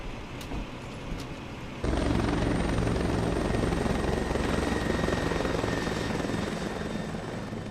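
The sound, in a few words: helicopter flying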